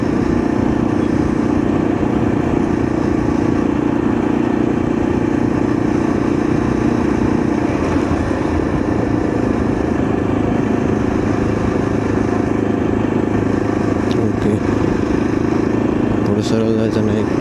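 A motorcycle ridden along a road through the Mangaon area near Morba, Maharashtra, with a steady, loud engine drone and wind rush holding throughout, plus a brief change near the end.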